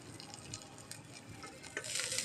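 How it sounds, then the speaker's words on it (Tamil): Pirandai (adamant creeper) fries in oil in a pan, making a faint, quiet sizzle that grows slightly louder and busier toward the end, with no speech. "இதை வானலில் போட்டு எண்ணெய் ஊற்றியிருக்கேன்"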